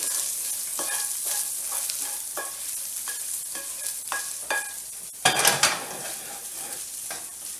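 Sausage browning in a frying pan, a constant sizzle with repeated scraping stirs of a utensil against the pan, close up, and a louder burst of crackling partway through.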